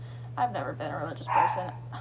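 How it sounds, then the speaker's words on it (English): A pet dog barks a few times in a home, sharp yaps breaking through under a person talking close to the microphone, with a steady low hum behind. "Sorry about my dog barking."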